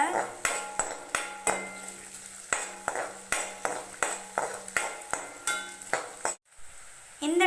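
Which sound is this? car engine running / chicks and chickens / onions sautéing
onions sautéing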